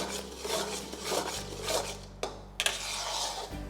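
Cashew and sugar mixture for kaju katli being stirred continuously in a pan, a soft scraping and rubbing with occasional sharper clinks of the utensil against the pan, steady and close.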